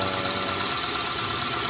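A Toyota Corolla engine runs steadily after its fuel pump relay is bypassed, a close, even idle hum with a faint ticking knock.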